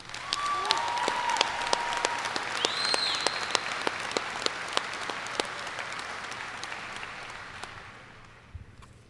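Steady applause from a crowd at a high school graduation ceremony, honoring honor roll students, holds dense and even for several seconds before thinning and fading out, with faint whistles or cheers rising briefly early on.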